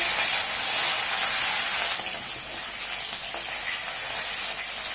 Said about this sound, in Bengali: আবারও তেলে মাছ দিয়ে দেবো।